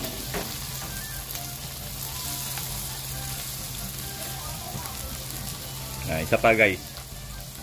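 Mixed vegetables hit a pan of sautéed onion and garlic with a steady sizzle, and a louder burst of frying and stirring comes near the end; a voice speaks briefly over the cooking.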